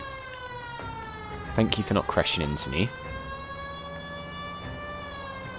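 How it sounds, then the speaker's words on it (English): A police car siren wails steadily in the 1940s Los Angeles crime game L.A. Noire, a rising and falling tone running throughout with someone speaking briefly over it midway. "Might have to put the sirens on and get over there quickly."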